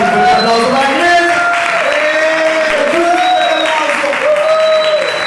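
Applause at a storytelling contest, steady clapping under a prominent voice speaking over it, with scattered cheers in the crowd.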